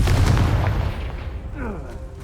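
Confringo blasting spell in Hogwarts Legacy going off as a heavy, booming explosion up front that rolls away into a fading rumble and swooshing magical tail.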